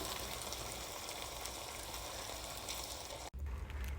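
Mushroom risotto with peas simmers in a pan as stock is ladled in and stirred, giving a steady bubbling sizzle with a brief break near the end.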